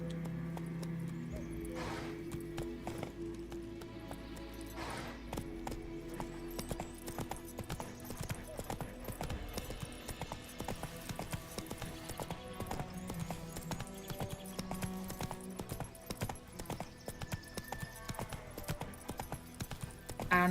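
The horse Roach in The Witcher 3 trotting and galloping, steady rhythmic hoof clip-clops throughout at moderate volume, with an occasional whinny and game ambience behind.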